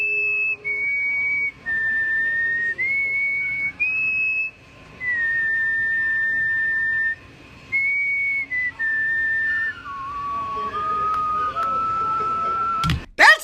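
A person whistles an army tune up close: a clear melody of held notes that step up and down, with brief pauses between phrases and a sharp thump right at the end.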